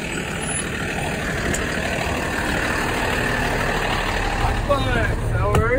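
A bus engine rumbles steadily with a brief air-brake hiss near the end, under background talk.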